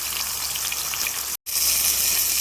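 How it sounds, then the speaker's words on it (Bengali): Eggplant fries in hot mustard oil in a pan, producing a loud, steady close sizzle broken once by a brief cut of silence before resuming. "এখন আমি বেগুনটা ভাজার লেগে দিয়ে দিচ্ছি।"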